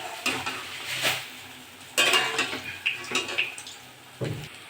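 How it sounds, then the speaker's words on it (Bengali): Drumstick flower chops fry in a pan and are flipped, with a soft sizzle under several sharp clinks and scrapes of a utensil against the pan, close and irregular, with no talking. "উল্টো পাল্টে ভালো করে সব ভেজে নেব।"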